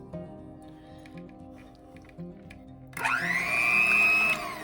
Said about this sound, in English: beat the mixture at medium speed for 2 minutes